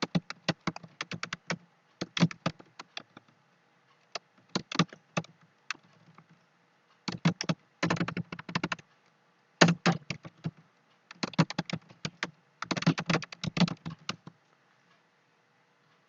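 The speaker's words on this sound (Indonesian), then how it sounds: "Di sini kita mengetikkan alamat UMKM kita" Rapid bursts of typing on a computer keyboard while an address is entered into a small-business registration form, clusters of crisp, close keystrokes separated by short pauses, with no voices.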